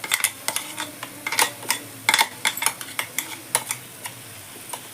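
Masala paste is stirred into gongura chutney in a pan, with a spoon scraping and clicking against the metal in quick irregular strokes over a low sizzle, close and moderately loud, no talking.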